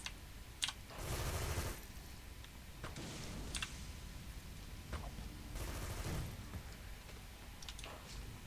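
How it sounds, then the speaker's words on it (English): Gunfire from the video game Company of Heroes, faint scattered bursts and single shots rattling at a distance over a low battlefield rumble. "They're shooting at each other."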